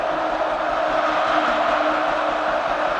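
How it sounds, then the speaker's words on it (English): Dense, steady roar of a large stadium crowd at Bill Snyder Family Stadium during a Texas Tech at Kansas State college football game, loud and continuous with no clear peaks. "This crowd is already in rare form."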